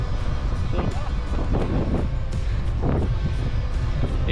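Steady, loud wind buffeting a microphone while cycling the ViaRhôna route, a constant low rumble with gusty rises throughout.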